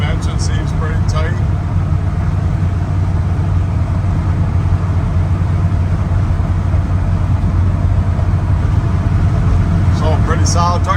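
Continuous low engine and road rumble of a 1971 Chevrolet K10 pickup truck driving steadily, with brief voices near the start and end.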